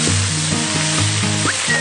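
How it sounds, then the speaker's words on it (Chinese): Water spinach leaves and stems stir-fry in plenty of hot oil in a wok over high heat, a steady loud sizzle with rhythmic scraping strokes of chopsticks about every quarter second. "翻炒至断生，下入腐乳汁，快速翻炒均匀就可以出锅。"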